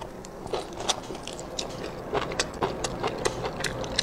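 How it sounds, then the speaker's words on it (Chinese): Close, wet chewing and biting on lamb tripe wrapped around pork belly, with soft irregular squelches and smacks repeating steadily over a low background, no talking. "吃一个俺家老公下午给我做的这个叫啥羊肚包肉"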